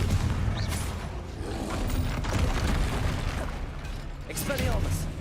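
The Confringo fire spell in Hogwarts Legacy blasts with a series of dull booms and crackling bursts, mid-loud and close, over several seconds of rumbling combat noise.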